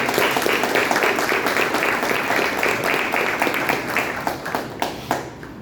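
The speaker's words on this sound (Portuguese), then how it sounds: "dando uma salva de palmas para o Senhor Jesus" A church congregation breaks into dense, loud applause. The many hands clap steadily, then thin out into a few last claps near the end. Faint voices sit under it.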